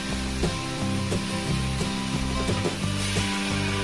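Peeled garlic dry-frying without oil in a kadai over a gas flame: a steady dense sizzle with soft scraping and light knocks of stirring running throughout.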